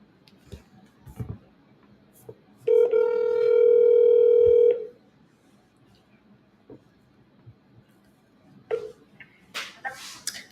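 An outgoing phone call: after a few faint clicks, a loud, steady telephone tone sounds for about two seconds, then stops. Scattered handling clicks and short bursts of noise follow near the end.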